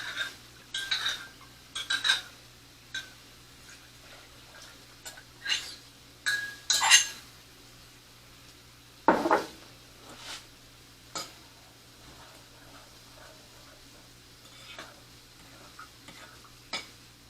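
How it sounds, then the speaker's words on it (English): A batter made with brown sugar is mixed by hand in a bowl: intermittent scraping strokes and light clinks of a utensil against the bowl, close and fairly quiet, with pauses between bursts and no talking. "you're going to need to make sure that you mix this really well because the brown sugar is going to lump"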